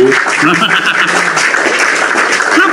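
Audience applause at a debate, a dense steady wash of clapping lasting a few seconds with faint laughter mixed in.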